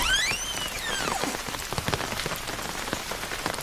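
Rain falls at night by a village pond, a steady dense patter of drops on surfaces, with a brief swooping tonal effect at the start.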